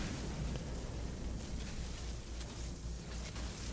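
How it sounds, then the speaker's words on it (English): A deep, continuous rumbling boom from frigates flying overhead during a storm in the No Man's Sky video game rolls on steadily and loudly, with no voices. "So that explosion you just heard"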